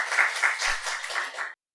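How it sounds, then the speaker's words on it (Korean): Church congregation gives a short burst of applause during a Monday service, a dense, even wash of clapping lasting under two seconds before cutting off. "그렇게 하실 하나님께 박수 한번"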